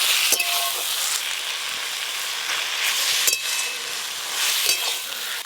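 Taro greens boiled with salt and turmeric, cooked with a hilsa fish head in a pan, are stirred while the liquid dries off, giving a steady close sizzle with a few scraping strokes of the spoon.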